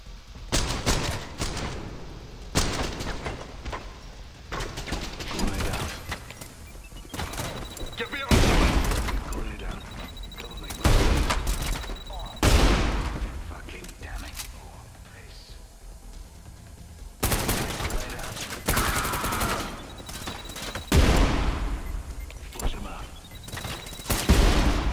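Gunfire in the shooter video game Trepang2: loud rapid bursts of shots that come in repeated volleys, separated by quieter gaps.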